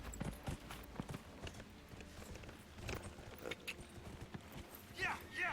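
Horse hooves clip-clopping in Dragon Age: Inquisition, a quick uneven run of hoof thuds under game ambience with a brief whinny-like sound near the end.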